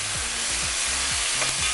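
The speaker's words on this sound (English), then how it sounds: "And you can hear that sizzle" Chicken pieces fry in a pan with a steady, loud broadband sizzle, while a utensil stirs and scrapes through them in a series of low, rhythmic strokes close by.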